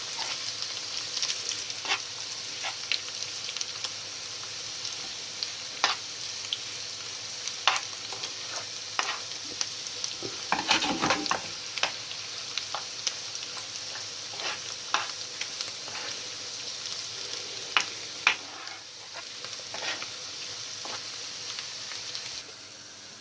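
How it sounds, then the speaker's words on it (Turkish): A spoon scrapes and clicks around a pot at irregular intervals as butter melts, over a soft, steady sizzle, close and fairly quiet. "Bir yemek kaşığı kadar tereyağını da ilave ettik. O eriyene kadar da döndüreceğiz bunu."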